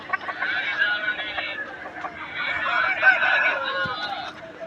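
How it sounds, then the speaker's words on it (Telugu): At a village poultry market, a heavy-bodied, good-quality native rooster and other fowl cluck and call close by in short, overlapping bursts, with market murmur and voices in the background. "మంచి క్వాలిటీ డబుల్ బాడీ కలిగిన పుంజు ఇది"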